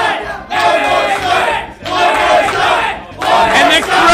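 A crowd at a Super Smash Bros. Melee tournament chants in three loud, rhythmic bursts separated by short pauses.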